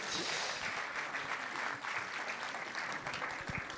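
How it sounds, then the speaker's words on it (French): An audience applauds at a 2011 prize-giving ceremony with steady, dense clapping that holds at an even level throughout. "On peut les applaudir encore."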